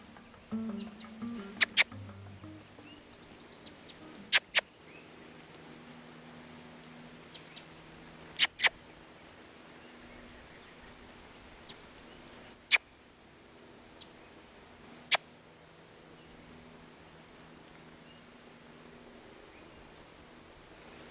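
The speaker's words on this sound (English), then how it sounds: "It's not, it's a red squirrel." A red squirrel in a forest gives sharp, isolated clicking calls, several spaced bursts, some doubled, against a quiet woodland background with faint rustling.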